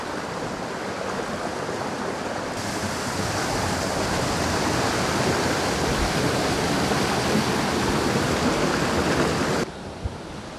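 Irala waterfalls roar in a steady, loud, broadband rush of falling water that holds on without a break, with no voices over it.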